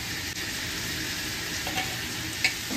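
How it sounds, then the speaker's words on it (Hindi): Onions frying in hot oil for birista, a steady close hiss of sizzling with faint crackles and one small pop near the end, no talking. "ये भी तेल गरम हो चुका है, अभी हम इसमें बिरिस्ता बना देंगे।"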